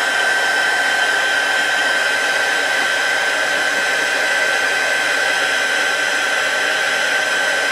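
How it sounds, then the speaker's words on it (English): Heat gun melting embossing powder on a handmade Christmas card, a loud steady blowing whine like a hair dryer, constant throughout with no talk. "Once it starts to melt, it does not take long for the rest of it to melt completely."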